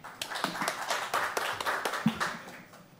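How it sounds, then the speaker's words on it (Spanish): Scattered clapping at a university lecture as a professor is welcomed, with distinct individual claps in an uneven, loose rhythm rather than a dense roar, fairly soft and near. "Con un aplauso, démosle la bienvenida"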